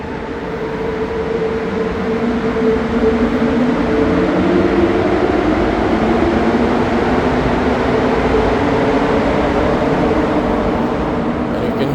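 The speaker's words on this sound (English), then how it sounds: "you can hear those Azure trains. The motors are definitely going through some wear and tear." A Montreal metro Azur train runs loudly and steadily, its worn motors whining and droning under a continuous rumble of wheels, with no voices.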